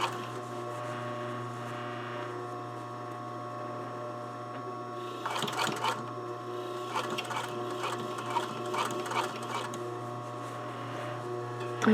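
A sewing machine runs in short bursts while stitching a neck facing down to the shoulder, its motor whirring in several quick runs over a steady background hum.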